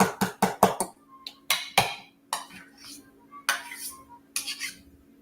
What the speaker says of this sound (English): I think I'm going to switch over to my whisk.